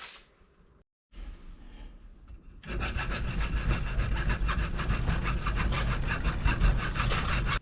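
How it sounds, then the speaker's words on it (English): A cutoff wheel cuts through a 3-inch PVC pipe cap clamped in a vise, giving a rough, steady grinding rasp that starts after a short pause and keeps going loud to the end. "so I'm cutting this off with a cutoff wheel right here"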